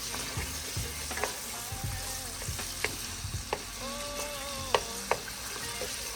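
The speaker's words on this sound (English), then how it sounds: "So you just want to stir this for about 30 seconds" Thyme, cherry tomato and yellow onion frying in a hot pan for lobster scampi, a steady sizzle under scattered scrapes and clinks of a utensil stirring through the mix, close and moderately loud with no talking.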